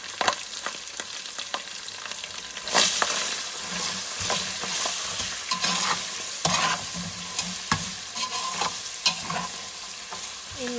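Green chillies and whole spices fry in a hot pan for a rice dish, a steady sizzle broken by repeated stirring scrapes and clinks, close and clear with no talk.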